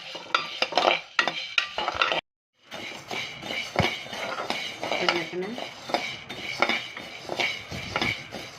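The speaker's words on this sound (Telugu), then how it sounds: "ఇట్లా ఓపిగ్గా గరిట తిప్పుతూనే ఉండాలి" A ladle scrapes and clinks steadily through toor dal dry-roasting in a pan for traditional kandi podi, close and continuous with a brief pause partway.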